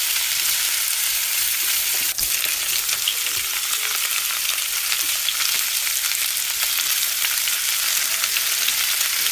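Vegetable pakoras of cauliflower, broccoli and capsicum deep-frying in oil give a dense, even crackle that runs close and unbroken throughout, with one tiny tap.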